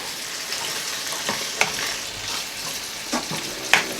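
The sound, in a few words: stirring chicken fajita casserole mixture in a pan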